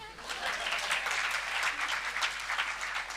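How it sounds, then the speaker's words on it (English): An audience at a B.Tech batch inauguration claps in a brief, steady burst of applause, moderately loud and even throughout with a faint voice underneath. "You can clap, no?"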